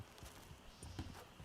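Horse hooves clip-clop at a steady walking pace in the Western game Red Dead Redemption 2, a quiet, close rhythmic clatter of several footfalls with no voices.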